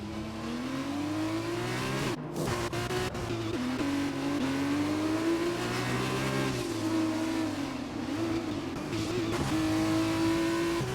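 An F2ABEEZ single-seater race car engine revs loud and close, climbing and dropping through gear changes as it drives back out of the gravel, with no voices over it.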